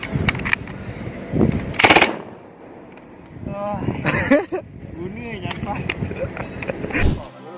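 An M249 light machine gun, a Special Purpose Weapon variant with a shortened barrel and added Picatinny rail, fires several short, loud, rattling bursts spread across the clip, under a voice narrating throughout.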